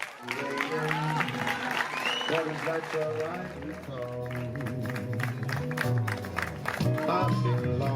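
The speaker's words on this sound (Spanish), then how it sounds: "le vamos a dar un fortísimo aplauso" Audience applause at a festival poster award ceremony in Jaraíz, with steady clapping mixed with strong tonal music or voices throughout, loud and continuous from start to finish.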